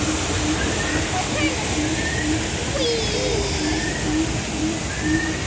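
Rushing water roars steadily and loudly throughout on the Kali River Rapids raft ride at Disney's Animal Kingdom, a dense continuous wash with faint voices mixed in.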